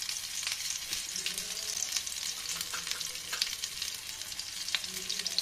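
Cumin seeds, fenugreek and turmeric spluttering in hot oil while making aloo chop, with a steady close sizzle and faint stirring clicks throughout, no voices.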